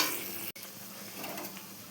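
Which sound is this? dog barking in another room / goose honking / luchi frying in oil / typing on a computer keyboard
luchi frying in oil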